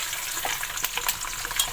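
Onions sizzle and crackle in hot oil for a beef stew, a steady close frying hiss with scattered sharp pops and spits, no voices.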